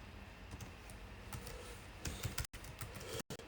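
Keys clack steadily on a computer keyboard while coding an HTML web form, a quiet run of close, irregular taps with a few louder bursts and two abrupt silent gaps.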